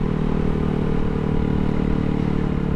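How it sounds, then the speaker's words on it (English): Honda Grom motorcycle ridden with a passenger aboard, its small engine droning steadily and loud with wind and road rumble throughout, no speech. "more on braking and not stalling out on the bike with somebody on the back"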